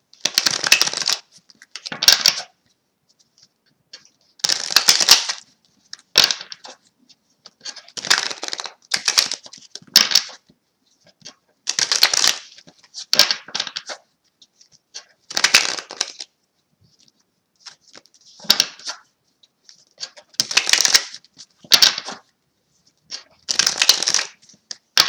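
Tarot cards being shuffled in repeated short bursts of riffling and crisp card slaps, close and fairly loud, separated by brief pauses, with no talking.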